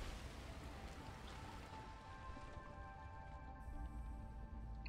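Hail or rain falls steadily in Subnautica Below Zero, a dense, even patter of drops on surfaces that holds at a moderate level throughout, with no speech over it.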